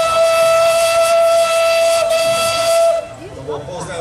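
Steam locomotive whistle blown at a railway event, a single loud, sustained tonal blast with a hissing edge lasting about three seconds before cutting off into the hiss of escaping steam and crowd noise.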